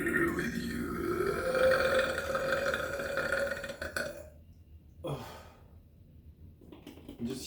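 A person burps while applying oil to their skin, a long drawn-out belch, loud and close, trailing off into quieter breathy sounds and a short sharp noise near the end.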